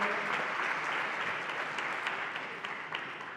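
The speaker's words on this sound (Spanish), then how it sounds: "Un aplauso." Audience applause greeting two guests arriving on stage at a justice data forum in Granada, steady dense clapping throughout, moderately loud and fading slightly toward the end, with no talk over it.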